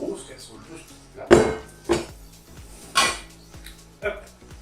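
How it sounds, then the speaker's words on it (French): A large metal saucepan is handled in a home kitchen, giving several sharp clanks and knocks spaced a second or so apart, heard close up among quieter rattles. "La meilleure solution, c'est de prendre une grosse casserole juste là."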